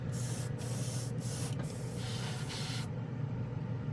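Ammo A-Stand chrome lacquer sprayed from an aerosol onto plastic: a steady close hiss in several bursts with short gaps, cutting off near the end.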